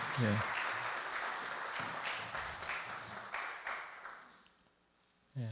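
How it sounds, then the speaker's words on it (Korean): A church congregation at a Sunday service applauds warmly, the clapping fading gradually over several seconds, with some voices mixed in. "박수 환영해 주시겠어요?"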